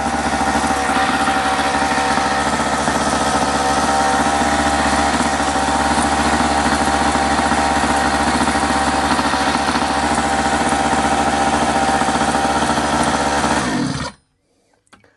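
A restored mini motorbike engine runs steadily at a buzzy, close, loud idle for about fourteen seconds, then cuts out abruptly into near silence after the plug cap is pulled.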